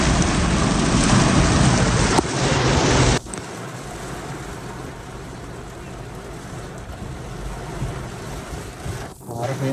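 A heavy thunderstorm with dense, loud rain hammering surfaces, dropping to a steadier downpour after a few seconds, with low rumbling underneath.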